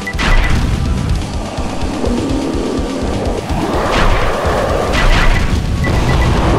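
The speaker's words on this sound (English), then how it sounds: "You just drop a meteor on me?" Meteor impacts in the game Wrath of the Dead Rabbit, a loud, continuous stream of crashing, booming strikes and smashing debris, building to heavier hits toward the end, with no talking.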